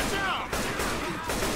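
Gunfire from the video game Left 4 Dead, loaded with incendiary ammunition, crackles in a couple of quick bursts over a brief stretch of game audio.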